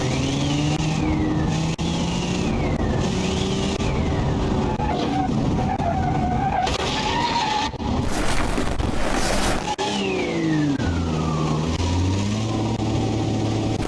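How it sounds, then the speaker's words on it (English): A supercharged V6 car engine in the game BeamNG.drive revs and accelerates with a rising, falling supercharger whine, the pitch sweeping up and down repeatedly, with a loud burst in the middle. "That's definitely supercharged. I can hear the whine."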